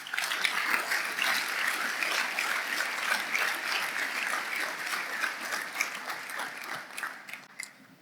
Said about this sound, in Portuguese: Isso, aplaudo, Senhor.